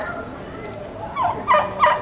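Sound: turkey gobbling

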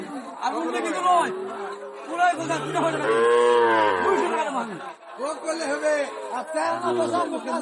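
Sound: cattle at a livestock market

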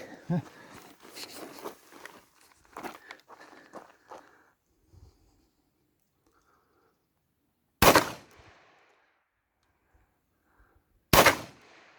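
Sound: Aksa Crossfire .410 shotgun shots

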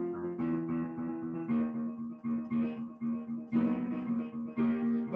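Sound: piano playing urgent accompaniment of a song from Carousel

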